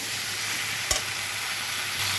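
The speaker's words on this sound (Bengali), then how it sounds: "এটা আমি ভালোভাবে কষিয়ে নেবো" Vegetables with turmeric, for a dried-fish curry, sauté in a pan with a steady close sizzle and one sharp clack of a spoon stirring partway through. No voices are heard.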